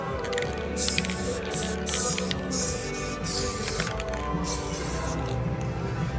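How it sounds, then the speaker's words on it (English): An aerosol spray can hisses onto a car axle part in a home garage, several bursts of spraying separated by short pauses, close and fairly loud with no talking. "I'm gonna spray that right now."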